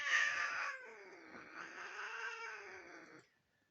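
A struggling cat held tightly by its owner lets out a long, loud, wavering yowl, a drawn-out caterwaul close by that swells, dips and then cuts off into silence.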